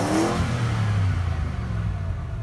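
A pre-1996 Ford F150 engine revs up as the gas pedal is pressed, a rising roar that peaks early and then settles to a steady, moderate drone.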